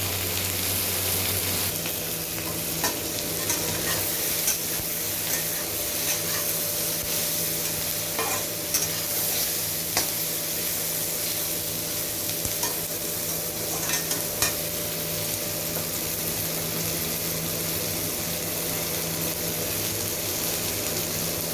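A steady, loud sizzle of onions, tomato and green chillies frying in a pan for mushroom chilli, with occasional scrapes of stirring, continuous and close.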